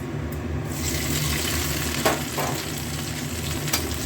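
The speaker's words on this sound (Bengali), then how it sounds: "আদা আর কাঁচা লঙ্কাটা দিয়ে একটু ভাজা হবে" Ginger and green chillies sizzle steadily in hot oil before banana flower is added, with occasional stirring clatters and a faint watery hiss throughout.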